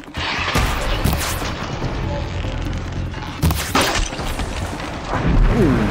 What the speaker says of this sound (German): Das war ein netter Schuss.